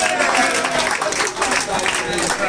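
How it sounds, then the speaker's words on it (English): An audience at a Teen Pulse Project event at State High School, Alimosho, claps steadily in a dense, continuous round of applause, with a voice partly audible over it. "Please give another round of applause."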